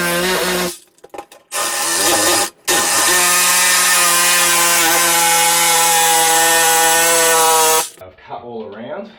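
A Ryobi power cutter slices through the back wall of an outdoor toilet, a loud, harsh whine running after two short bursts, then stopping abruptly with quieter handling noise at the end.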